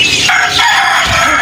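A rooster crows loud and close, one full cock-a-doodle-doo that fills the short clip with no other sound.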